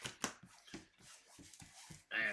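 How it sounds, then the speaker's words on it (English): A deck of Doctor Strange playing cards being shuffled by hand on a table, a run of short crisp riffling bursts in quick rhythm, close and fairly quiet. "then we're going to shuffle our Doctor Strange cards"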